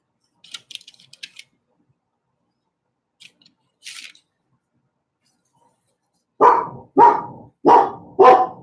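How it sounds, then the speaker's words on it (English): A few faint clicks and rustles, then four loud, close dog barks in quick succession near the end. "For some reason the doggos are barking."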